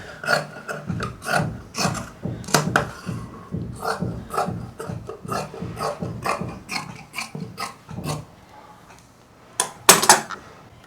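Fabric for a homemade cushion is cut in a quick run of crisp, close rhythmic snips and rasps, about two dozen strokes with a short pause near the end before a few louder cuts.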